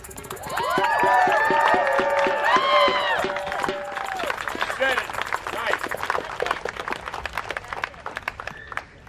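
A rally crowd cheers and applauds, loud raised voices whooping over a thick wash of clapping that thins into scattered claps as the cheering fades.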